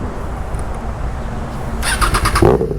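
A Triumph Trident 660 motorcycle fitted with a drift exhaust is started up nearby, the starter squeal giving way to a loud, rough, throbbing engine note, with no talk.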